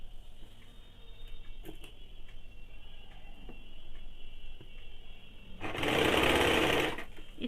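A sewing machine stitches folded fabric for a kaftan nightie, a faint steady whir through most of the stretch that swells into a loud, dense burst of stitching near the end before easing off.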